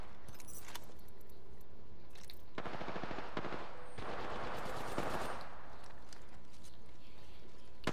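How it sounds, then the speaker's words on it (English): Gunfire in a fast-paced online shooter game, with bursts of rapid shots coming in clustered volleys through the middle of the clip over steady game ambience and scattered clicks. "Where are they shooting at?"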